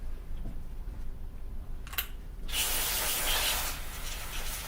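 Cleaner sprays onto the cylinder of a Paslode IM65 trim nailer, a small click followed by a loud, sustained hiss up close lasting about two seconds, with no talk.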